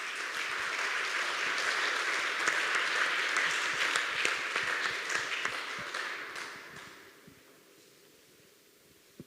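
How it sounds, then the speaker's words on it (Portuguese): Audience applause for the members of a panel at a closing session of a tech event, a dense sustained clapping that holds steady for several seconds, then thins out and fades to near silence. "pedia um aplauso para todos"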